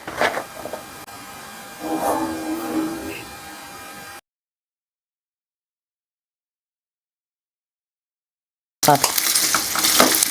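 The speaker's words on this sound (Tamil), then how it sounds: "எண்ணெயில் நல்லா வதங்குது" Chopped mango ginger sautéing in hot oil in a pan for pickle: a close, steady sizzle with stirring scrapes, broken by a long stretch of silence before the frying resumes loudly.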